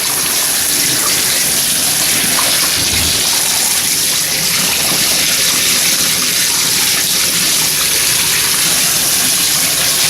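Tap water gushes steadily and loudly into a basin while wool is washed for lanolizing, a continuous broadband rush with no talk over it.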